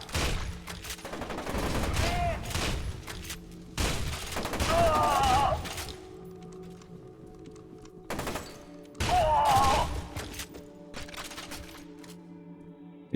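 Bursts of weapon fire from the shooter game FEAR 2, loud, close volleys in several separate clusters with short pauses between, some rapid automatic rattles and heavier thuds, ending in quieter trailing noise.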